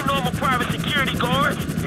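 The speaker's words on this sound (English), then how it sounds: "Those choppers?" Helicopters in GTA V beat over a steady low rotor drone, with warbling whine sweeps repeating in the upper range, loud and close throughout, under a voice.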